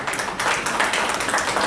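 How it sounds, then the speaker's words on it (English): An audience at a university leadership conclave applauds a speaker, with dense, steady clapping filling the hall for a couple of seconds. "Can we have a huge round of applause for Sir?"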